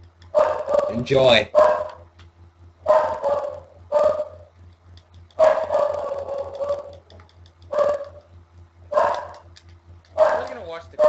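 A nearby dog barks repeatedly in uneven bursts, some sharp and some drawn out into whines, with a person's voice speaking briefly among the barks over a low steady hum.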